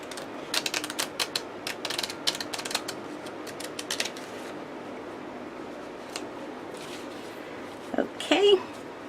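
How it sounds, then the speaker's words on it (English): A deck of cards is shuffled by hand, rapid riffling flutters in bursts close to the listener, with quieter handling clicks and a soft breath or rustle near the end. "I've shuffled these cards a lot already, but we'll shuffle them"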